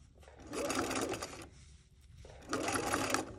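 A sewing machine stitches binding fabric around a curve in two steady, whirring bursts of rapid needle strokes, close and fairly loud, broken by a brief quiet pause in the middle.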